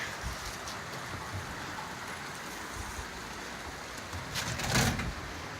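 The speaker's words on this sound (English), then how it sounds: "It's raining away." Steady rain patters softly on surfaces, a faint even hiss with a brief louder splash near the end.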